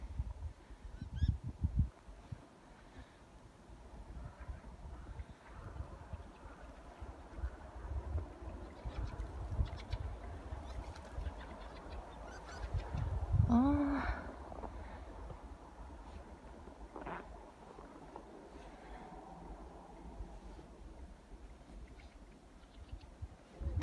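A large flock of birds gives goose-like honking calls outdoors on a sunny, frosty day, faint and distant under steady wind noise, with a brief louder call near the middle.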